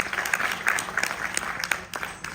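A crowd at an influencer meetup in Dharsiwa applauds to welcome the MP, with a moderate patter of clapping and individual sharp claps standing out against the general wash.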